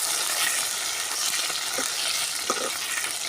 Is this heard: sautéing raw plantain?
yes